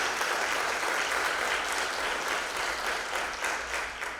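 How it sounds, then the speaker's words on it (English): A room full of people applauds a superintendents panel, a thick continuous wash of clapping at a steady level that carries from start to finish without pause. "let's give our panel a round of applause"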